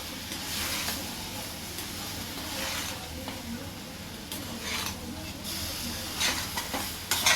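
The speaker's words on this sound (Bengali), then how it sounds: "আর একটুখানি জল দিয়ে দেবো, যাতে মশলাটা ভালোভাবে চারিদিকে মেখে যাবে।" Spice masala sizzles steadily in a pan with a little water, a constant frying hiss broken by scraping stirs throughout, close and fairly loud.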